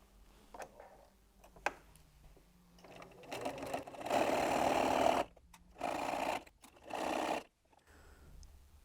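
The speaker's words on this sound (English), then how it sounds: "And now I'm going to sew down the other side." A sewing machine stitches a quilter's wallet in a few bursts, running steadily for about a second at a time with short pauses between runs and faint handling clicks before it starts.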